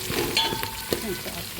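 Chopped onions frying in hot oil for a mackerel fish gravy, a steady close sizzle with soft stirring scrapes, no voices.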